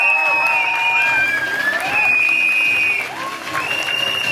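Applause and cheering greet director Nikhil Advani as he is called onto a stage at an event, with a continuous crowd roar and whistles over the top and some talk mixed in.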